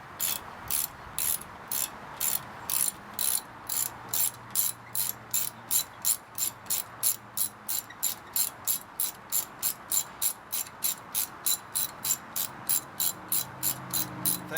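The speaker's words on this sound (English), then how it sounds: "The ratcheting action makes this a lot faster than it would be otherwise" A ratcheting socket wrench clicks in a steady, fast rhythm while loosening a corroded, tight brake bolt, with dozens of sharp, close ratchet strokes running throughout and no talk.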